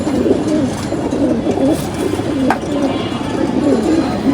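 Caged pigeons in a loft coo continuously nearby, soft throaty warbling overlapping in a dense chorus with a faint voice in the background.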